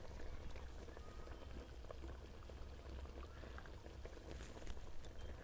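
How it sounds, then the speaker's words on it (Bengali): Vinegar is poured into a glass jar of raw mango pickle, giving a faint, steady liquid trickle with soft splashing that runs continuously for a few seconds. "তো আমি এখানে ভিনিগার দিয়ে দিচ্ছি।"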